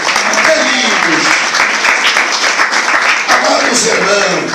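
Church congregation applauding during a sermon, a loud, dense, steady wash of clapping that runs the whole stretch, with voices mixed in underneath.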